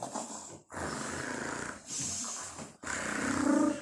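A voice imitating snoring: three drawn-out, rasping snores with short pauses between them, close and fairly quiet.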